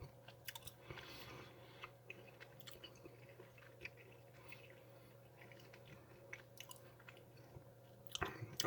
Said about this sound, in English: Still chewing, of course. You can most assuredly hear that.